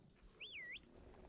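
A single clear, smooth bird whistle from the video game Herdling rises and dips in one wavering call, standing out briefly above quiet game ambience.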